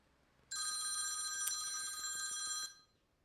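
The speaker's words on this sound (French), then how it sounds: "je laisse sonner le téléphone" A telephone bell rings in one steady electronic trill lasting about two seconds, clear and alone in a quiet room.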